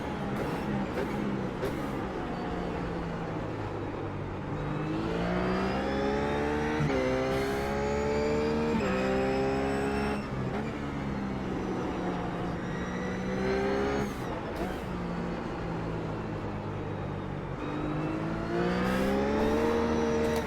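A RUF race car's engine climbs and drops through repeated gear changes on the Zandvoort circuit in iRacing, each rising whine sweeping upward before a shift, loud and continuous over the full lap section, with no talking.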